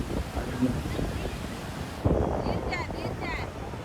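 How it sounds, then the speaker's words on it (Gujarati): Strong wind on a beach at Puri, Odisha buffets the microphone in a rough, rumbling roar, with surf and faint voices of crowds in the background. "બીચ ઉપર એટલો મસ્ત પવન આવે છે"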